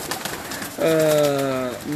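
A pigeon's brief cooing call, close and clear, a single drawn-out coo over soft background chatter, with a short second note at the end.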